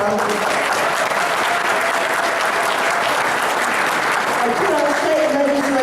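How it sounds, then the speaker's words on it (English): A large crowd at a political caucus meeting applauding loudly and continuously, dense clapping with cheers mixed in, steady throughout. "Give yourselves a big round of applause."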